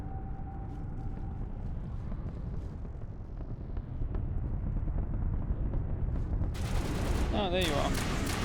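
Gunfire in the video game Mass Effect 1 Legendary Edition, a steady crackle of weapon fire under a low rumbling bed, intensifying into bright bursts near the end.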